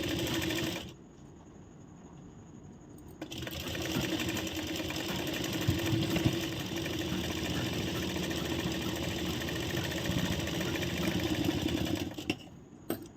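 An electric sewing machine stitches a blouse, its motor whirring in a steady continuous buzz after a brief pause near the start, running evenly for several seconds before stopping with a short trailing rattle.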